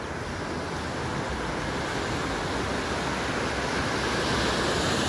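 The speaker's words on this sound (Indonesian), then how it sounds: "ini ombaknya yang ada di Pacific Ocean, ya. Tidak begitu tinggi ya." Pacific Ocean waves on a beach, the surf fairly low, wash in as a steady broadband roar with no clear breaks, close and continuous for the whole stretch.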